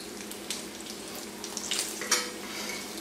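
Bacon strips frying in a pan, a steady crackling sizzle with sporadic sharper pops and brief scraping stirs, continuous and close with no talking.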